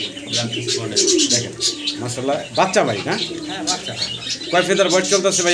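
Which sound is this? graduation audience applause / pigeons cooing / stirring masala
pigeons cooing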